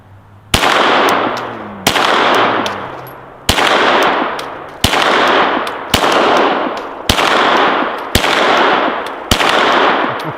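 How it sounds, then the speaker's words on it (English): Glock 17L pistol with a 33-round magazine fired at a target outdoors, eight loud sharp shots spaced about a second and a half apart, each with a ringing echo decaying before the next. "let's shoot this target before I forget"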